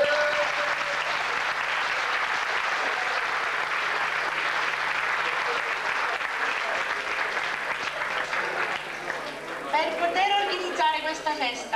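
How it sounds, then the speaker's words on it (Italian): Audience applause at the Von Braun Festival, a broad sustained wash of clapping that fills most of the clip before thinning near the end as a voice starts speaking. "Applauso."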